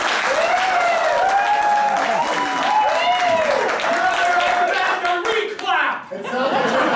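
An improv show audience bursts into clapping to cast a vote, a loud wash of applause with laughter and whoops layered through it and a voice speaking over it near the end.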